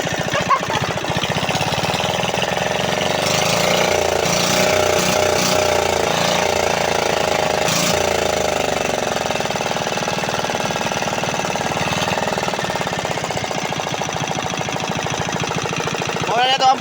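A motor starts and keeps running with a steady, loud drone throughout, with some knocking and clattering on top and a voice talking faintly beneath.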